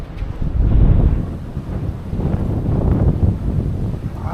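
Strong wind blowing at a windmill site in Rizal, a loud steady buffeting rush against the microphone with gusty swells throughout, no talking.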